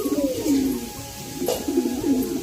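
Pigeons coo close by in soft, throaty repeated calls, several low rolling coos overlapping with a brief flutter in the middle.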